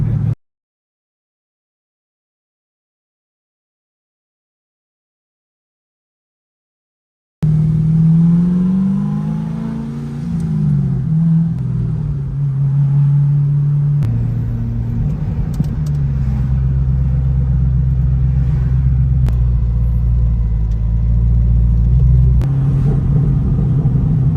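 An LS V8 swapped into a Porsche 993 RWB roars after a stretch of silence, a loud, deep engine note rising and falling through several revs and pulls, with a continuous low rumble and no talk.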